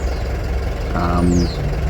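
The 4.4 SDV8 diesel V8 of a 2015 Range Rover Sport Autobiography Dynamic runs at idle with a steady, loud, close rumble. A couple of faint tonal chirps sit briefly over the engine noise.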